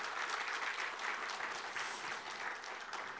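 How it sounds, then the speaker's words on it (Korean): Audience applause at a Korea Employment Agency for the Disabled ceremony marking its 30th year and new vision: dense, even clapping from a crowd that holds steady and sounds slightly distant. "응원의 박수 부탁드리겠습니다."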